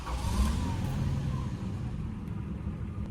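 Toyota Crown Royal Saloon G engine idling steadily with a smooth low rumble, heard close and alone with no talk.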